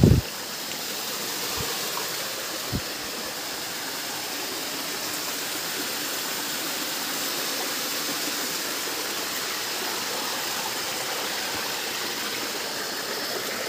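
Flowing stream water rushing steadily in an outdoor setting, a dense continuous wash of sound close by with a couple of brief knocks near the start, no voices.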